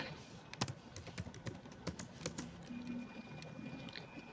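Keys clatter in an irregular run of sharp taps as someone types code on a computer keyboard, the clicks close and moderately loud over a faint background hum, with no talking.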